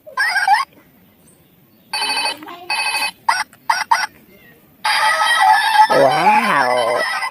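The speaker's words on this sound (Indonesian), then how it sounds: "ini ada telepon Hello Kitty" A Hello Kitty toy telephone rings in bursts of bright electronic tones, stopping and starting, then a long warbling melody plays up close.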